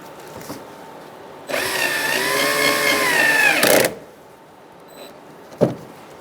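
Power drill driving screws that fasten the front bumper to the body of a 2010-2013 Kia Soul, one sustained whirring burst of about two seconds followed by quieter handling clatter and a short knock.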